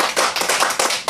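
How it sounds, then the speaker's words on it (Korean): An audience at a church small-group gathering in a restaurant breaks into brisk, close applause, several loud hand claps overlapping in quick bursts over a short moment. "우리 박수 한번 쳐주시죠."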